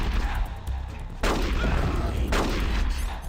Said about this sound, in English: Alright, stun grenade. Watch out for this!